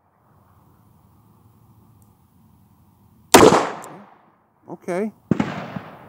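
Shots from an old RG Model 40 .38 Special revolver fired double action at an outdoor range: one loud, sharp report followed by two shorter, quieter bangs and another loud crack, after a quiet stretch with a brief spoken word.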